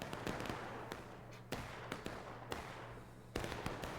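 Musket gunfire in a Civil War battle video game set at West Woods, with scattered sharp cracks in an irregular rhythm, a few louder nearby shots and faint shots farther off.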